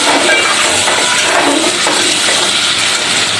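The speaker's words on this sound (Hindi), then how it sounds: "अब हम इसको इसका कलर चेंज होने तक फ्राई करेंगे।" Meat (gosht) frying in a pan for an arvi gosht curry, a loud continuous sizzle and hiss close up with no talk.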